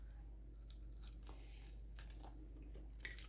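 Faint crunching bites and chewing of crispy air-fried chicken wings, up close and quiet, with irregular crisp clicks against a low steady hum.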